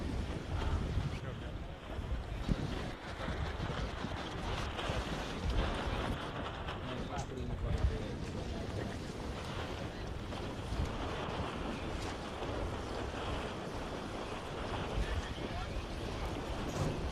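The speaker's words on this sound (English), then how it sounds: "we have around 10 knots of wind from westerly" Steady westerly breeze of about ten knots sweeping over open water at a sailing regatta off Vilamoura, a continuous broadband rush of wind on the microphone with waves and boat noise mixed in, loud and unbroken throughout.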